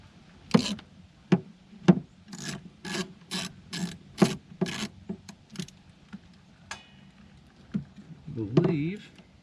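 Hose clamp being tightened on a mass air flow sensor of a 1996-1998 Chevy/GMC C/K1500 truck, a series of short rasping ratchet-like strokes in an even rhythm, close and moderately loud, ending in a brief clatter.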